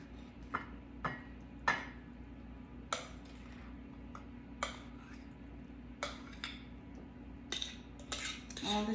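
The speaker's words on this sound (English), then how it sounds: "So just mix everything together and then put it in your baking dish." A spoon mixes sugar and ricotta in a dish for baked ras malai, giving scattered sharp clinks and scrapes against the bowl at an uneven rhythm over a quiet background hum.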